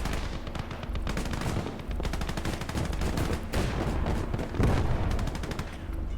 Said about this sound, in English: It's an anti-infantry gun.